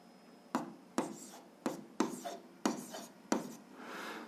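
A pen writing and underlining on paper during an algebra lesson, making six distinct tapping strokes at a steady pace, each followed by a short scratch, close and quiet.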